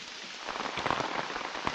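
Rain falls steadily, with soft patter and occasional sharper drops striking a surface close by, fairly quiet overall.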